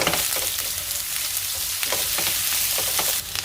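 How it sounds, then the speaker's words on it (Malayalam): Onions sautéing in hot oil with salt fill the pan with a loud, continuous sizzle and crackle, close up, with the faint scrape of stirring and no voices. "എണ്ണ നല്ലവണ്ണം ചൂടായിട്ടുണ്ട്, നമുക്ക് ഉള്ളിയിട്ട് വഴറ്റിയെടുക്കാം."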